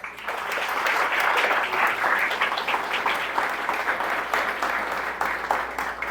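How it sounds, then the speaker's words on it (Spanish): A church congregation applauds during a sermon, giving a dense, steady round of clapping from many hands. It stays at a fairly even level for several seconds, with a faint voice underneath. "Dame un aplauso al Señor."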